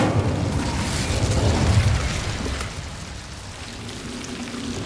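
The Incendio fire spell is cast in Hogwarts Legacy, giving a dense, noisy whoosh and rumble. It is loudest at first and eases into a steadier crackling hiss.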